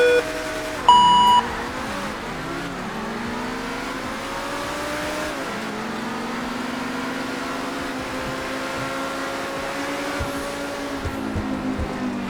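A Bugatti Bolide and a McLaren racing each other in a driving game, engines revving hard through rising gear shifts with a few beeps at the start, then a sustained high-pitched engine whine and tire noise holding steady over several seconds.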